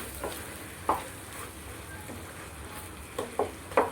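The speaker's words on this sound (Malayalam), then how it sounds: "ശർക്കരയിട്ട് അത് ഒന്നുകൂടി നന്നായിട്ട് എല്ലായിടും കൂടി ഇളക്കി കൊടുക്കുക" Lemon pickle with jaggery stirred in a pan: a faint low sizzle underneath sparse clinks and scrapes of a spoon, a few sharper knocks toward the end, no talking.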